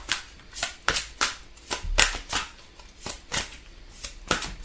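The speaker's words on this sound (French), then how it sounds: "Je vais prendre quelques cartes de celui-ci." Tarot or oracle cards are handled and shuffled close up, a steady series of papery riffles and soft slaps, about a dozen crisp strokes in an even rhythm with no talking.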